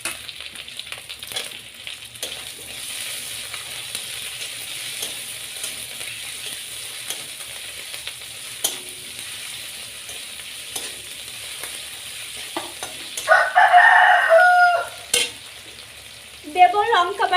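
Ginger paste, chopped tomato and chilli paste frying in a pan while being stirred, a low steady sizzle with scraping spatula strokes and a louder burst near the end.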